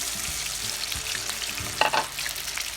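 Battered crayfish deep-fry in hot oil with a steady, close bubbling sizzle, interrupted by a brief louder crackle burst partway through.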